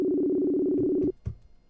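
A steady telephone tone buzzes continuously while a call is placed to a radio show, then cuts off abruptly, followed by brief clicks and a faint voice.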